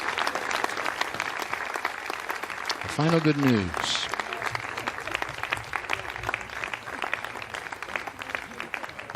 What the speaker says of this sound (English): You see the applause, you hear the applause.